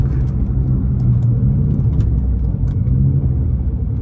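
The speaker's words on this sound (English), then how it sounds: "Them turbos are no joke." A Nissan R35 GT-R's twin-turbo engine rumbles loud and steady while driving, a continuous deep drone with road noise and no break.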